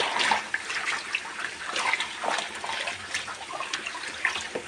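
Tap water runs and splashes close by over fresh herbs being washed in a kitchen sink, a fluctuating, busy gurgle throughout.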